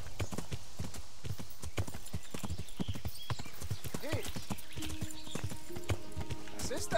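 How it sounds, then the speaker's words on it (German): Horse hooves clip-clop steadily in the medieval role-playing game Kingdom Come: Deliverance, a close, regular trotting rhythm with a short whinny-like tone near the end over game ambience. "Hey, die haben ein Pferd."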